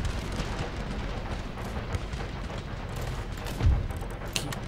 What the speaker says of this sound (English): Get my canister firing.